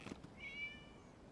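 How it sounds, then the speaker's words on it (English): A cat meows once in Genshin Impact, a single drawn-out, fairly soft mew rising from quiet background ambience, preceded by a couple of faint taps. "It was just a cat."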